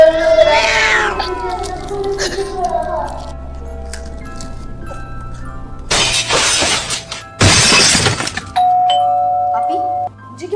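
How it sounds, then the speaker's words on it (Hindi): An indoor doorbell rings from downstairs in a house at night, two bursts of chiming with a short tone after, preceded by people talking nearby. "मुझे क्यों लग रहा है कि नीचे बेल हो रही है?"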